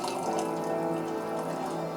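Hot water pours steadily over large chunks of 2005 Menghai Dayi raw puerh tea in a small brewing vessel, a continuous close, fairly loud liquid stream with no talking.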